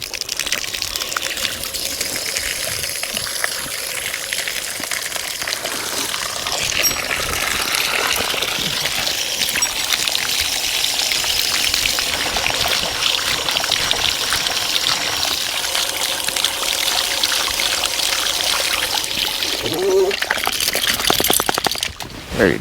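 A dog is rinsed with running water at Paso Picacho Campground in Cuyamaca Rancho State Park, a loud continuous gushing spray that holds steady for over twenty seconds, close by, with no talking.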